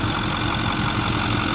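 A 2009 Ford F-550 XL crew cab utility truck with a 6.4 liter diesel engine idling, giving a steady, even, continuous rumble heard up close with no voices.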